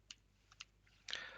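A computer keyboard is typed on in a quiet room, giving a few faint, separate clicks followed by a slightly louder burst of keystrokes near the end.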